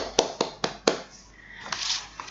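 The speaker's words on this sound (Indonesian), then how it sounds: "mari kita tepuk tangan untuk kita semua" A few sharp, spaced hand claps from a class, about four distinct claps close together, followed by quieter scattered clapping and faint voices.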